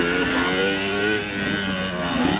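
A Kawasaki KX 85R dirt bike engine revs hard with a loud, buzzy, sustained two-stroke drone that dips slightly and climbs again, close and continuous.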